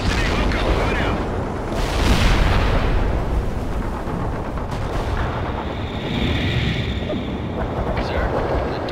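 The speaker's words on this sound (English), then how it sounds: "Airstrike turned target area into dust." Airstrike explosions in a war video game set during a siege of New York, a continuous barrage of heavy booms and rumbling blasts filling the whole stretch, loud and dense with no clear pauses.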